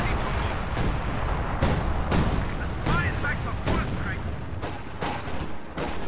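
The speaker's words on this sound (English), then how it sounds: "More artillery getting called in on those shock troops" An artillery barrage hits in Company of Heroes 2 as a dense rumble of repeated booming impacts roughly every second, each one layered over constant battle noise and gunfire. A voice talks over the barrage.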